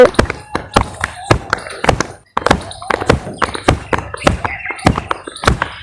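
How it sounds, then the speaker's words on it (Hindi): A hand claps repeatedly against the armpit during a clapping health exercise, producing loud, close, dull slaps in a fairly steady rhythm with one short pause midway and a voice speaking faintly beneath. "और बगल के अंदर भी ताली बजाएंगे"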